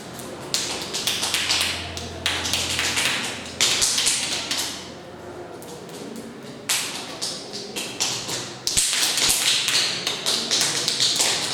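Rapid finger tapping with the forefinger patters continuously in overlapping bursts, imitating rainfall, building and pausing, close and fairly loud, with no voices.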